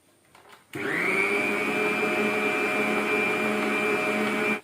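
Electric mixer running steadily in tea rusk batter with tutti frutti, a loud continuous whirring motor drone that starts abruptly after a brief quiet moment and holds evenly before cutting off.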